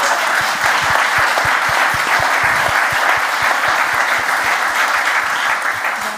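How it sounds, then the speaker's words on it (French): An audience applauds steadily, with a continuous roar of many hands clapping at an even, loud level throughout. "On applaudit Noémie et Marion."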